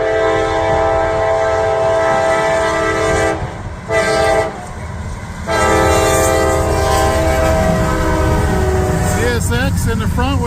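A CSX mixed freight train rolls past at night in high wind and rain, its loud horn blaring in long blasts over the steady rumble and clatter of the cars.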